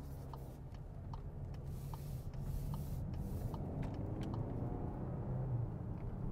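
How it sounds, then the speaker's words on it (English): A 2024 Volkswagen Tiguan SUV shifts up through its gears while driving, a low steady engine drone from inside the cabin, faint and continuous, with light ticking and rustling over it. "pushed up the gears there. Made a bit of a noise, but it's not like a CVT"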